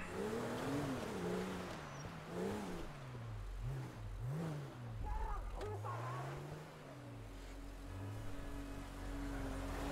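Car engine driving in the video game GTA 5 roleplay, a steady revving hum rising and falling through gear changes, continuous and moderately loud, with a voice talking over it.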